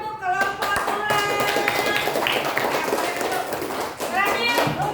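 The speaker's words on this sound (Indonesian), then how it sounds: "Tepuk tangan untuk kelompok ular." Primary school children in a classroom clap their hands in scattered, uneven bursts while young voices chatter and shout over the clapping.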